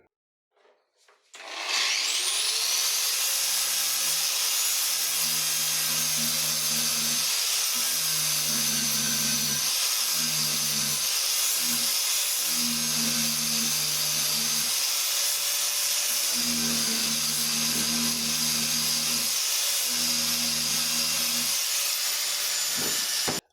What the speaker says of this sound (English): I will grind it off using my brand new angle grinder.